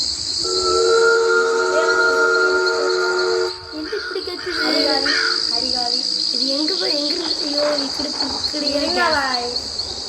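Steady, loud cricket chirping runs throughout, a continuous high insect trill with other voices and sounds rising over it in the second half.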